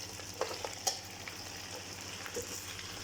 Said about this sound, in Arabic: هسه حضيف الدجاج والبصل على الهاي